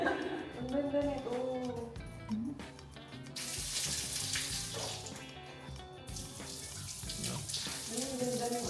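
Shower water runs steadily from a faucet in a master bathroom, a continuous splashing hiss that fills the clip, with people talking over it.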